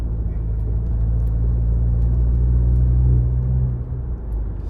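A fully modified Skoda Superb's engine and exhaust give a loud, steady low rumble with a deep droning hum, swelling slightly before easing off near the end, heard up close with no talk.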